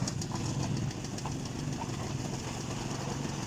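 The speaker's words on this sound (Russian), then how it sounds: "Квадрик." Quad bike engine idling on a spring field ride, a steady low rumbling drone held at an even level throughout, close and continuous with no talk.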